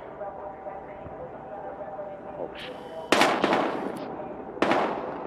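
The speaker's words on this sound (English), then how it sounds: "We've got gunshots." A few sharp gunshots in the video game Battlefield Hardline crack out in quick succession over steady background noise, loud and close.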